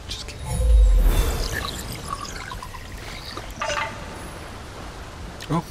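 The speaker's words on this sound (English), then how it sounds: "A secret passage behind a waterfall." A waterfall in the video game Kena: Bridge of Spirits gives off a steady, rushing and trickling wash of water, with a brief louder swell near the start and a few faint splashy accents.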